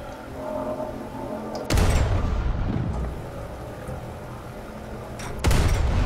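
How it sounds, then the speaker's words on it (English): Gunshots in a video game, fired backwards: two loud booming blasts land a few seconds apart, each followed by a rumbling tail, over a low steady hum. "let's see if shooting the gun backwards will get us anything more"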